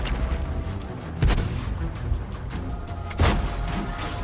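Two booming tank cannon shots in World of Tanks, about two seconds apart, each a sharp loud blast fading into a rumbling tail over steady engine and background noise.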